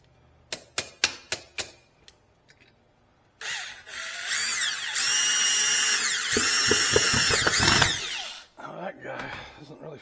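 A power drill drives a screw into lumber while a shelf goes up in a shop, opening with several sharp taps, then a loud, close whir that rises and strains for about five seconds before stopping.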